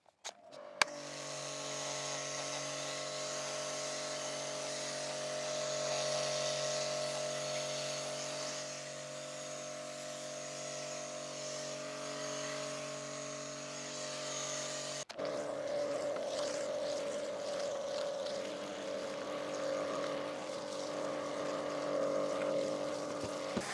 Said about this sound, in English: So I'm going to create some foam with the attachment that came with the machine itself